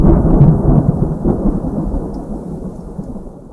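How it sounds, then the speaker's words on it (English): A raging night thunderstorm with heavy rain, a loud dense rumbling roar of downpour and thunder that slowly fades over a few seconds, with no voices. "One night, a terrible storm raged."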